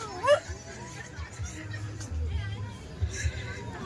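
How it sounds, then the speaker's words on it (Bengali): Dogs fighting outdoors during a Valentine's Day outing near a boating spot, with snarls and yelps mixed under a hubbub of people chatting, children playing and some laughter, the dog noise moderate and partly masked. "ওদিকে কুকুরদের ঝগড়া লেগেছে"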